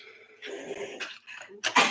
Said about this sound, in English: Sorry, that's a dog dying behind me.